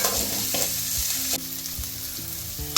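Sliced green chillies frying in a pan for chicken kurma, a steady crackling sizzle with a few soft knocks as the mixture is stirred, close and with no talking.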